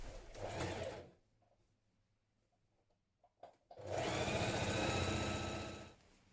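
A sewing machine stitches a seam on dungarees in two runs, a short burst and then a longer steady stretch, loud and close, with quiet handling sounds in the pause between.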